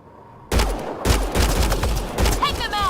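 Gunfire in a Mass Effect Andromeda firefight erupts abruptly after a quiet start, dense bursts of shots and fusillade close and loud, with voices shouting over the fighting.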